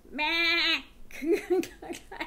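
A goat bleating sound effect, one loud, wavering bleat up close lasting under a second, followed by talking.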